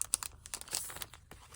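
A plastic sleeve being removed from stationery cards: crinkly plastic rustling and tearing in quick, irregular bursts, close and fairly quiet, with no talking.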